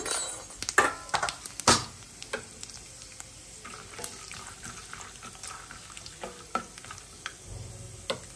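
Green chillies and curry leaves frying in hot oil with peanuts, mustard and cumin for a lemon rice tempering: sharp crackles and spits up front, then a steady light sizzle with occasional pops and stirring clinks, no talk.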